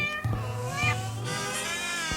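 A cat meows in a few drawn-out, tonal calls, close and fairly loud, set over soft background music from a whimsical story about an old lady with a dog, a cat and a harmonica.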